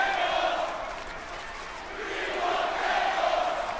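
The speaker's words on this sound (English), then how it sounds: "Crowd letting you know what else they want to see in this matchup." Wrestling pay-per-view arena crowd during a hardcore match, a loud continuous roar of many voices swelling and rising into chanting, distant and diffuse with no single voice standing out.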